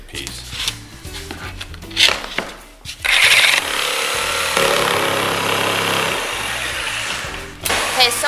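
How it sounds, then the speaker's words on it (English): In a workshop, a jigsaw cuts a circle for a chandelier with a steady, harsh buzzing that runs for several seconds after a stretch of talking and shuffling. "while Paul is sawing back there"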